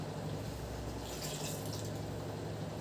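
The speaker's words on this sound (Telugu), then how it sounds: "వాటర్ కూడా యాడ్ చేద్దాం" Water pours steadily into a mixer jar holding peanuts and tamarind, a continuous splashing and filling sound with no pauses and no talking.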